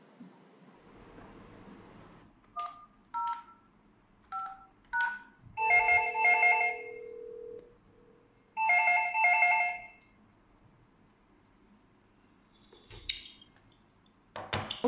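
An Htek IP phone rings with an incoming call in two clear electronic ringing bursts, preceded by several short keypad beeps, all close and isolated against a quiet background.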